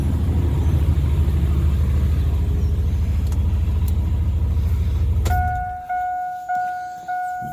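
A truck engine idles with a steady, loud low rumble for about five seconds, then cuts off, leaving a quiet space with a few faint repeating electronic chimes.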